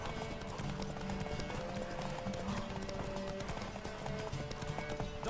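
Horse hooves clip-clopping in The Witcher 3 video game, a steady galloping rhythm layered with game music and faint voices underneath.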